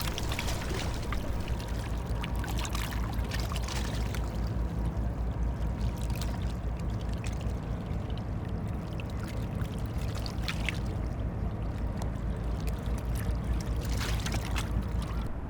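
Water of the Rhine flowing at river kilometer 497, a continuous close rushing and gurgling wash with small splashy bursts, steady in loudness throughout and heard alone without voices.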